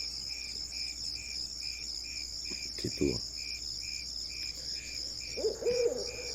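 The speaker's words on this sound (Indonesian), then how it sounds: "hanya suara jangkrik" Crickets chirp steadily at night behind a house, a regular pulsing trill carrying throughout, with a brief rustle and a short spoken word partway through.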